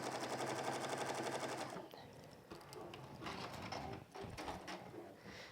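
A sewing machine stitches a seam on a peg bag in a rapid, continuous mechanical chatter for nearly two seconds, followed by slower, uneven clicks and fabric handling noises as the sewing winds down.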